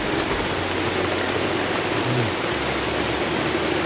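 Heavy rain pours steadily on a forest, a dense, loud, unbroken wash of hiss with no gaps.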